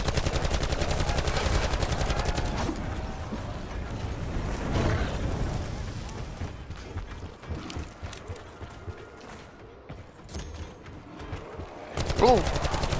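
Rapid automatic gunfire from a VPR rifle in Call of Duty: Black Ops 4, loud bursts of shots filling the first seconds, then quieter scattered shots and game sounds, with another burst at the end.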